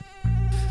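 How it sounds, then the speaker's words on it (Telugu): Mosquitoes buzz close by, a sustained droning whine that rises sharply in loudness and continues steadily to the end. "మామా ఇక్కడ దోమలు చంపేస్తున్నాయిరా"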